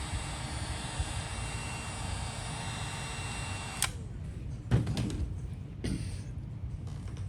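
Traxxas Revo Platinum Edition nitro RC car engine idling while warming up, a steady buzzing drone throughout with a few sharp clicks and knocks near the end.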